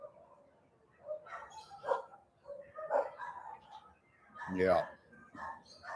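Dogs barking outside in the Philippines, several distant yaps and barks scattered in irregular bursts, with a soft human voice speaking briefly nearby.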